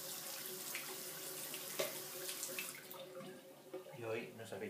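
Water runs from a tap into a small cup with a continuous, moderately faint trickling splash, changing tone as the cup fills, while a voice talks alongside it.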